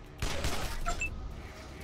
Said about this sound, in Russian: Ну и два выстрела одиночных.